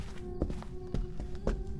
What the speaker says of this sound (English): Now listen to those footstep sounds. It's a very normal speed ghost.